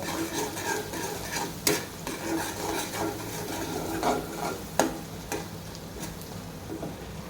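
Noodles being stirred in a pan with spices and salt: scraping spatula strokes against metal over a soft sizzle, with a few sharper clinks of utensil on the pan, steady and close.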